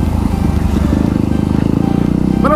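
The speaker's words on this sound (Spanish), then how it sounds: "¿cuál es la moto que tengo actualmente? Bueno, obviamente es la WR250X" A Yamaha WR250X motorcycle engine runs at a close, loud, steady idle with a rhythmic low pulsing, while a faint squeak or chirp rises briefly near the end.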